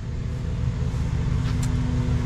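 A septic tank delivery truck idles and rumbles as it pulls around the side of a septic system install site, its engine a steady, fairly close low drone with no talk.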